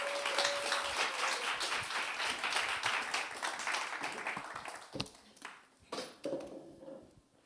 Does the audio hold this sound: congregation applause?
yes